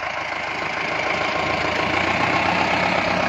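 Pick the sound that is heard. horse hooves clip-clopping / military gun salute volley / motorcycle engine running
motorcycle engine running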